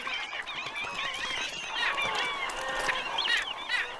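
Birds along Amazon waterways give loud, honking, goose-like calls in overlapping bursts, close and busy, with no voices.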